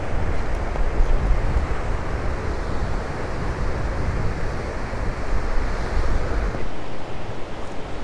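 Steady, strong ocean wind roaring over open water on the coast of Ghana, with a constant low rumble like surf underneath, loud and unbroken throughout.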